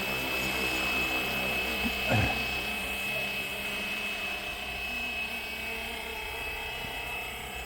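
A Flywing Bell 206 RC model helicopter hovers and flies by with a steady high-pitched whine and rotor buzz, a brief swelling sweep around the pass, heard outdoors without talk.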